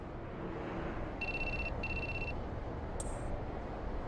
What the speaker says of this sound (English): I think that's your phone going off.